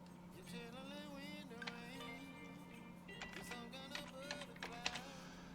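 Quiet clicking of keys as a word is typed on a computer keyboard, light irregular taps spread over a few seconds beneath a faint hum and soft tonal background.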